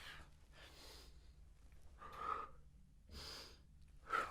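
Heavy exercise breaths come close and fairly quiet during a no-equipment core workout with trunk rotations in a hotel room, as four or five rhythmic forceful exhales and inhales with no talking.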